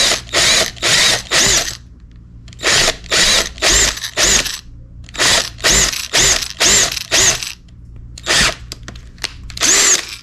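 A step drill (uni bit) bores a hole into a Fender Telecaster guitar body, the power drill whining loud and close in repeated short bursts separated by brief pauses.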